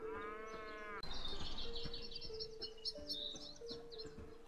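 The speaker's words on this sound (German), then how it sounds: "Oh, da sind auch so viele Kühe." In the video game Bellwright, cows in a wooded area near a village let out a deep moo, followed by softer lowing, while birds chirp in the background.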